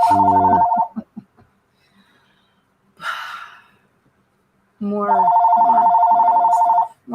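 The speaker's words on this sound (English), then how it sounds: "And somebody's trying to call me." A telephone rings with an incoming call, a loud trilling bell that sounds, pauses through a breath and a few quiet words, then rings again for a long stretch.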